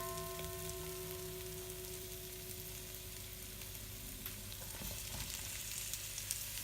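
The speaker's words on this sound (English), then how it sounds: "And now I'm going to add my onions." Curry goat fries with a steady, dense sizzle as onions are added to the pot. A few soft stirring knocks sound beneath the continuous crackle.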